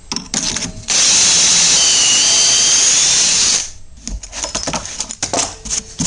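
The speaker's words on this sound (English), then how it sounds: "you'll put your piece on there and clamp it down, and then we'll drill" A power drill bores a pocket hole through a wooden piece clamped in a single pocket hole jig for a fireplace mantel: a loud, steady whine lasting several seconds, framed by short clicks and handling knocks.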